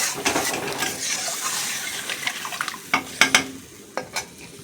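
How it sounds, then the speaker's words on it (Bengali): A pan of spiced potato and fish curry sizzles loudly and steadily while a utensil clinks and scrapes against it in sharp bursts, with no voices. "এখন আমি জল দিয়ে দেবো। এখন ঝোলটা ফুটতে থাকবে।"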